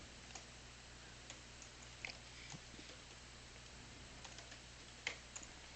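Faint, sparse keystrokes on a computer keyboard as a folder name is typed in Windows 11, scattered light clicks in small clusters over a low steady hum, with no talking.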